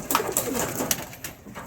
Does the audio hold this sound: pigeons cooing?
yes